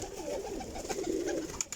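Pigeons coo softly and repeatedly at a prized pigeon loft, low rolling calls over a steady background hum, close and continuous with no talking.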